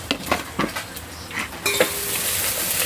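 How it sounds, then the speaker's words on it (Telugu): Onions with masala frying in a pan, a steady close sizzle with stirring scrapes and a few utensil clinks on the pan; no voices. "ఒక లైట్గా ఫ్రై అయిన తర్వాత ఉల్లిపాయలు అయితే మంచిగా ఫ్రై అవ్వనిస్తాను."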